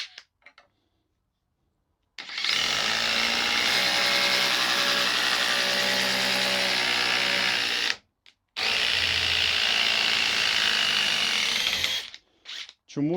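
DeWalt DCF870 hydraulic impact driver switched to its second speed, a loud close whirring hammer run of about six seconds, a brief pause, then a second burst of roughly four seconds, with no talking.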